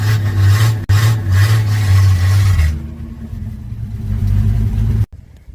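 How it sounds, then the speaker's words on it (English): Engine of a 1965 Ford Mustang with a dirty carburetor, running loud and close with a deep rumbling roar that eases off partway through before cutting out abruptly near the end, with no talking. "The higher you rev it, the carb's probably dirty."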